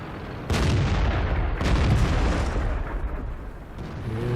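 Two heavy booming shots from an artillery gun in the video game World of Tanks, each a deep blast with a long rumbling decay, followed by quieter background rumble.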